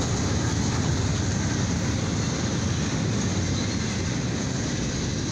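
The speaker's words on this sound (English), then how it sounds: "Here's my sixth train of the day here on September 9th, 2023" A westbound CSX intermodal freight train with end DPUs rumbles past on track two in the late afternoon, a steady, loud, continuous roar of wheels and cars filling the whole stretch with no letup.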